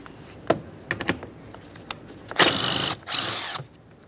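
A power tool runs down the 10mm mounting bolts of a Ford F-150 side mirror, two loud bursts of whirring, each about half a second long, after a string of faint clicks and knocks, with no talking.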